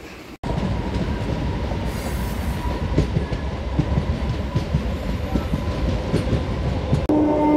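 A MEMU express train running on the tracks, a loud steady rumble with rhythmic wheel clatter and faint squeals, heard from inside the carriage near a window.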